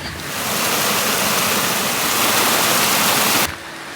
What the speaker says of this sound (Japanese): 水の音が結構激しくなってきた